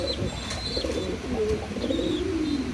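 Red Lahori pigeons coo in low, soft, rolling phrases close by, with a few thin high chirps and faint rustling mixed in.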